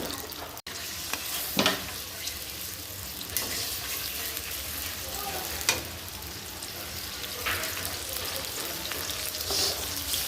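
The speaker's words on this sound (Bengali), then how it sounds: "পেঁয়াজটা ভাজা ভাজা করে নিচ্ছি।" Onions frying in oil with bay leaves in a pan, a steady close sizzle with a few louder stirring clatters, no voices.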